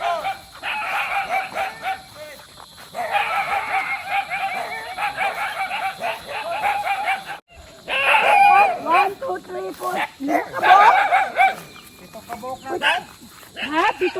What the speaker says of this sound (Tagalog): Dami na rin aso.